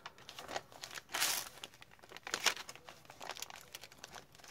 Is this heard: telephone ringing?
no